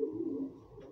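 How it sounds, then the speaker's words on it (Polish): A fairly large domestic pigeon coos in a pigeon loft, a low, steady, throaty murmur heard close and clearly with no talking over it. "Ale ładny bardzo gołąbek"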